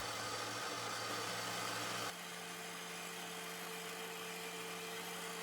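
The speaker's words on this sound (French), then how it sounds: "Le robot, on mélange" A kitchen stand mixer motor runs steadily, mixing dough of egg, sugar, flour and a pinch of salt, a continuous mid-loud hum that drops in pitch and level partway through and then carries on evenly, with no talk.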